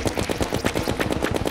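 Rapid gunfire in Terraria, a fast, even stream of clipped shots repeating several times a second, steady and fairly loud with no talk.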